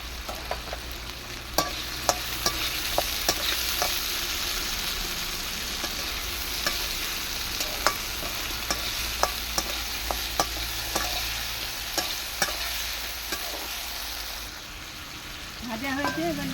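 Food sizzles steadily in hot oil on a wood-fired clay stove while a utensil scrapes and clinks against the pan at irregular intervals, fairly quiet and close.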